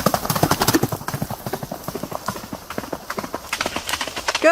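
Horse hooves galloping in a fast, steady rhythm of sharp clip-clop strikes, close and clear throughout with no voices.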